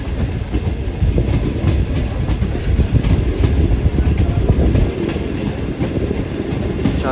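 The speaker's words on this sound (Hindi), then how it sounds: "बहुत खूबसूरत कर लेते हुए हमारी ट्रेन रवाना हो गई है।" Shalimar Express pulling out of Lahore Junction, heard from inside an AC parlour coach as a heavy rumble with rhythmic wheel clatter over rail joints and occasional faint squeals, close and loud throughout.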